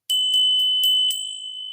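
A small bell is struck five times in quick, even succession, each bright ding ringing on, before the tone fades into a sustained hum.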